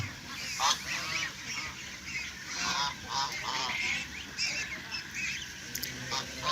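Geese honk and ducks, including Belgian and Campbell ducks, quack repeatedly on a farm, several birds calling in overlapping bursts nearby against a steady outdoor background.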